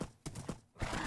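A horse in a video game, with short rhythmic clip-clop bursts and a brief whinny-like tone, loud and close over a short span with no talk.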